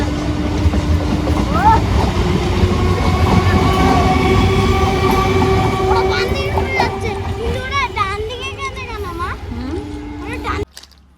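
A train passes at Barasat railway junction with a loud, continuous rumble and wheel clatter close by, easing off toward the end, while children talk over it.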